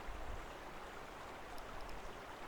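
A Carpathian mountain stream flows in a soft, continuous rush, faint and steady, with a few small splashes and no voices.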